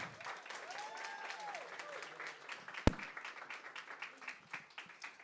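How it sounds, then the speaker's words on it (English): An audience at a university awards night breaks into applause, a dense patter of clapping lasting several seconds with one sharp knock midway, while a voice speaks briefly over the start. "A round of applause for Amy McLean."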